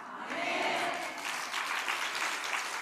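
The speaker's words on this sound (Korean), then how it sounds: "우리 박수 쳐줘요" Applause from a church congregation during a Sunday service, a steady dense clapping throughout with no one speaking over it.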